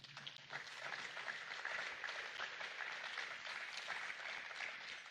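A church congregation applauds the Lord during a service, a faint, steady wash of clapping that lasts the whole stretch with no voices over it.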